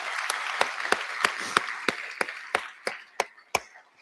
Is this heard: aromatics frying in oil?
no